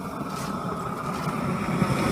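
A propane tiger torch burns with a steady, close, broadband roar as its gas valve is opened wider, the sound holding constant and slightly swelling throughout.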